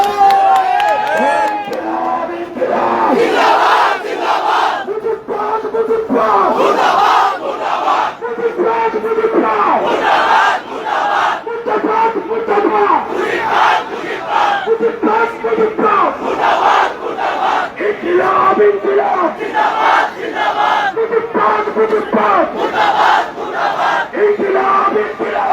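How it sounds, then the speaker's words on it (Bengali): A large political crowd chants slogans together in loud, dense unison, with rhythmic shouted phrases rising and repeating over a continuous roar of voices for the whole stretch. "ওই সময় একসাথে স্লোগান দিল আমরা"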